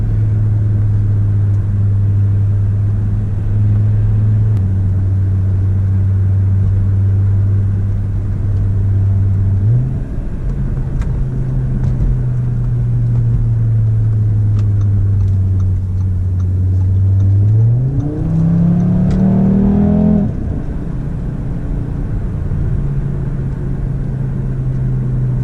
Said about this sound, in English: This thing is legit the best back roads driving car ever.